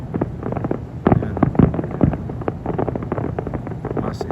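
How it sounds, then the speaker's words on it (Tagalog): A fireworks display crackles in rapid, irregular bursts of sharp pops and bangs, layered into a steady close-up barrage with a few louder reports standing out. "Maganda po ang fireworks po nila ngayon."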